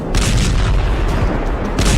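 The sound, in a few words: explosions from fighter jet missile strikes on Iran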